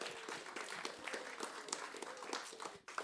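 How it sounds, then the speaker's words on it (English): Audience applause at a sponsor presentation event, a steady wash of many hands clapping at moderate distance that thins and drops briefly near the end before resuming. "So a big round of applause for SATEL."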